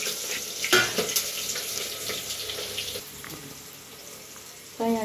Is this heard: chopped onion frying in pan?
yes